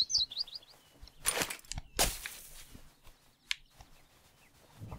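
Faint, quick bird chirps in South Park: The Stick of Truth come at the start, followed by sharp swishing hits and soft footstep-like game sounds over a quiet background.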